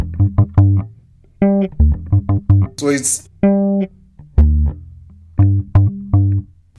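Deep plucked bass guitar notes played in an African finger-style technique in a bouncy rhythm, with a brief spoken phrase in the middle.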